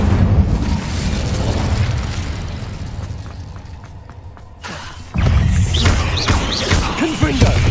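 An Incendio fire spell from Hogwarts Legacy goes off as a loud burst that erupts suddenly, followed by roaring, crackling blast noise over a busy combat soundscape.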